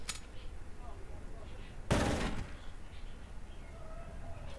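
Machine gun fire in a Garry's Mod World War II roleplay game comes as one short, sharp burst of rapid shots over low background noise, with faint voices around it.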